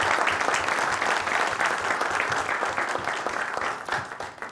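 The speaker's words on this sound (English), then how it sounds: "So let's give them a round of applause." Audience at a Lincoln City Council candidate forum applauds steadily for several seconds, a dense wash of clapping that thins slightly toward the end, with no talk over it.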